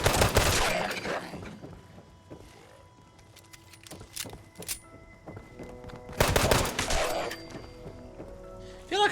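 Gunfire in Fallout 76 comes as loud bursts of rapid shots at the start and again later, with scattered single cracks and impacts between them and faint background noise in the gaps.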